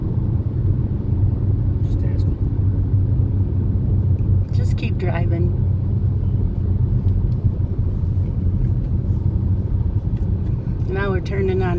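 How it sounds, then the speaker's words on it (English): A car rolls along a lakeside road near Conesus Lake with a constant low engine and tyre rumble filling the cabin, while occupants speak briefly over the drone. "Just keep driving."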